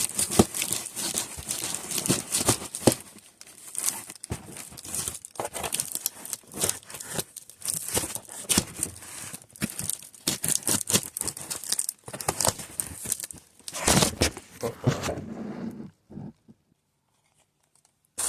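Sneaker packaging being unwrapped close by, with a dense run of crinkling and tearing bursts that keeps going for most of the stretch, then drops off into near silence at the end.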